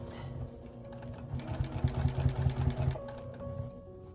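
A sewing machine with a walking foot stitches a heavy quilt, its needle clattering in a fast rhythmic stitch that swells in the middle and eases off toward the end.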